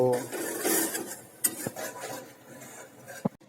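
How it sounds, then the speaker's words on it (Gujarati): Flour roasting in ghee is stirred in a pan, a close, continuous rasping scrape broken by a few sharp knocks of the spoon against the metal. "જેમ જેમ મિત્રો આપણો લોટ શેકાતો જશે તે રીતે લોટની અંદરથી ઘી છૂટવું પડશે"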